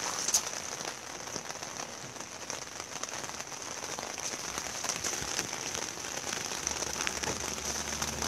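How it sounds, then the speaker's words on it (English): Steady rain falling around a parked 2007 Chevrolet Silverado, a dense continuous patter of drops on surfaces throughout, with no talk. "it's raining"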